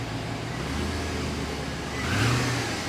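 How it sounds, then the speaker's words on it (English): A loud car passing close by, its engine note swelling and revving steadily as it goes past, with a rising surge toward the end. "there's a loud car going by"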